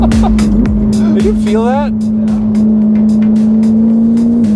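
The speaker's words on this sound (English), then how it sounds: "Up until third gear we had wheel spin and it was just zooming forward." A Ferrari F8 Tributo fitted with an IPE exhaust accelerates hard, its loud engine holding a sustained roar through the gears while a passenger speaks briefly over it.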